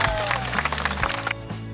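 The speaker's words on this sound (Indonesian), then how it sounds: "beri tepuk tangan untuk semuanya." A classroom of students claps for everyone in a vocational computer and basic networking lesson, a brief dense patter heard under tonal music and some voice, ending abruptly.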